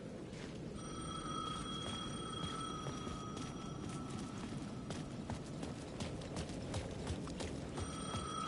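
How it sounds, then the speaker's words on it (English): A payphone rings in Alan Wake 2, its electronic ring repeating steadily at moderate level over a low ambient rumble, with no voices. "The payphone at the edge of the plaza was ringing again."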